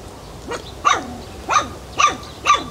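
Stray dog barking in a forest, five sharp barks spaced roughly half a second apart, fairly close and loud, with no voices over them.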